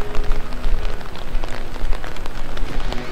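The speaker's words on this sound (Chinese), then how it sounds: "下雨了" Rain falling outdoors near an old wooden footbridge in Cuyahoga Valley National Park: a dense, close patter of drops on surfaces, continuous and fairly loud throughout.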